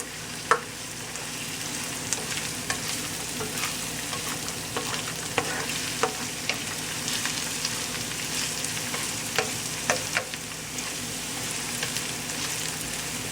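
Chopped ginger and garlic frying in oil in a pan, a steady close sizzle with occasional stirring clinks and scrapes, no talking.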